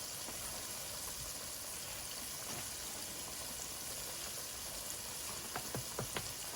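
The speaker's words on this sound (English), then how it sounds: "while I fry up the rest of these shrimp" Steady, even sizzling of shrimp frying in hot oil, with a few sharp pops and crackles near the end.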